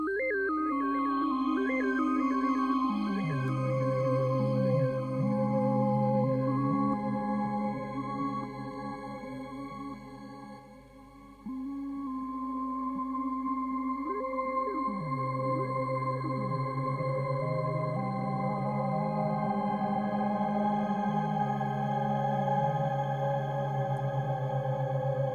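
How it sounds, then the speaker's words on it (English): A Korg shimmer reverb running in the NuRack FX app blooms into a sustained, layered synth-like wash of stacked tones, shifting chords slowly and ringing out steadily for the whole stretch with no speech. "That's a shimmer reverb"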